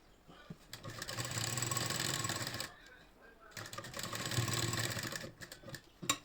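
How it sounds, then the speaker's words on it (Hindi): A sewing machine stitches two pieces of fabric from an old saree, running in two long, steady whirring bursts with a short stop between them and faint speech underneath. "इस जॉइंट को सीधा रखते हुए सिलाई लगानी स्टार्ट करेंगे अपनी फिटिंग के अकॉर्डिंग"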